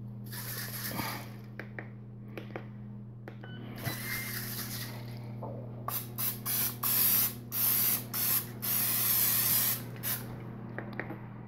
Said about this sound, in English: So I sprayed that pretty heavily.